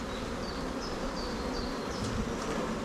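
Bees buzzing around a developing hive swarm in an artificial split, a close, dense, continuous hum with individual insects whining past, no talking.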